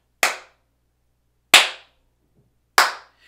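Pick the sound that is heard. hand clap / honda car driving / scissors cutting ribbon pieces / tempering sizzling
hand clap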